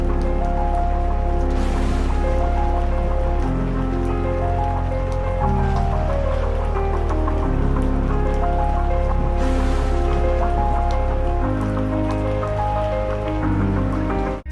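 Rain with thunder, muffled with the treble cut as if heard from indoors, a steady dull patter over a low rumble that swells and shifts, with soft music-like tones beneath.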